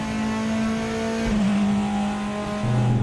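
Race car engine in the sim racing game Raceroom, a steady loud drone holding a constant pitch, briefly shifting midway and then rising slightly near the end, with no talking.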